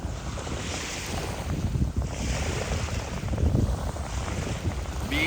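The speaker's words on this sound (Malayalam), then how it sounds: "ബീച്ചിന്റെ സൗണ്ട് ആയതുകൊണ്ട്," Beach surf washing ashore with steady wind buffeting the microphone, a continuous close roar of waves and wind noise with no voices.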